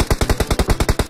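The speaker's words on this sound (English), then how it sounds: "Mana yang nembak? Nggak, serius. Ada nembak." Automatic gunfire from the mobile battle-royale game PUBG Mobile. A rapid, evenly spaced burst of about eleven sharp, loud shots comes in quick succession at close range.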